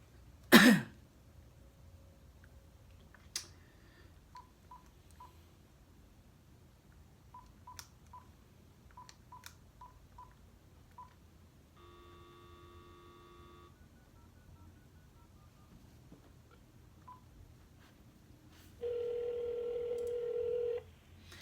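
A telephone being dialed, with a series of separate short keypad tones spaced out across the clip, then a steady tone toward the end, all faint and quiet, with a sharp noise near the start.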